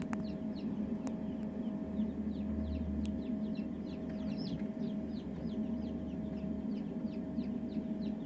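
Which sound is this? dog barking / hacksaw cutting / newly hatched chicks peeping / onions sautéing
newly hatched chicks peeping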